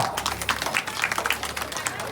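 At a wedding, a group claps in a loose, uneven rhythm, soft and somewhat distant, under chattering voices and crowd noise.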